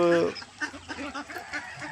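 Ducks at a farm pond beside poultry pens give short, nasal quacking calls over a few seconds, close by, with someone talking over and between them.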